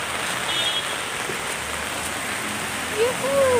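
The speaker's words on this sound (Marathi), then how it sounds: "पाऊस नव्हता पाहिजे यार" Rain falling outdoors at Khopoli, a steady dense wash of drops on surfaces throughout, with a faint voice surfacing briefly near the end.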